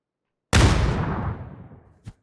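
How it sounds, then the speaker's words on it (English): A grenade explosion in PUBG: Battlegrounds: one loud, sudden boom with a long, fading rumbling tail, then a short, sharp pop just after, with nothing around it. "We do see nades coming in"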